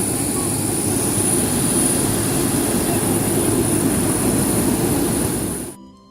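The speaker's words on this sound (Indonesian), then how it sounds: "Naik pesawat dari Jakarta ke Makassar dengan waktu tempuh kurang lebih 2 jam." Steady, loud roar of a jet airliner cabin in flight between Jakarta and Makassar, a continuous broadband engine and air noise with a thin high whine, cutting off abruptly near the end.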